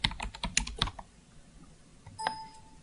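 A run of quick, crisp keystrokes on a computer keyboard taps out for about a second, then stops; a faint electronic ding follows, all quiet and close with no talking.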